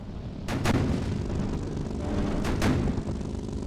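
Gunfire from an armored car in the tank-building game Sprocket: four sharp, booming shots land in two quick pairs about two seconds apart over a steady low engine drone, with no talk.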